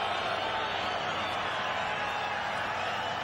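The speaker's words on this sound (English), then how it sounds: "And you hear the displeasure from the crowd." Distant stadium crowd at an MLS soccer match reacting to a foul on a Galaxy midfielder, a dense sustained roar of voices filling the background without clear individual shouts.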